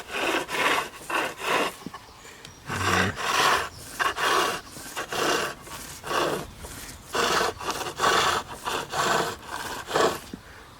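A skew chisel smoothing a spinning wooden spindle on a lathe, repeated scraping, rasping passes in uneven bursts, fairly close and moderate in volume.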